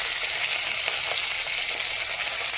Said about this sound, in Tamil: கடாய் வச்சு கடுகு தாளிக்கிறோம்.